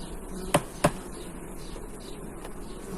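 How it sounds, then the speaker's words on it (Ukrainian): Low, steady hum of calm honeybees working in an open horizontal lying-type beehive, with two short knocks of frames being handled early on over the continuous buzz. "Бджолки спокійні"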